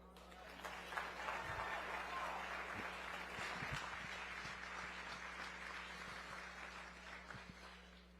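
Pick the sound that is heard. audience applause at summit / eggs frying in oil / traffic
audience applause at summit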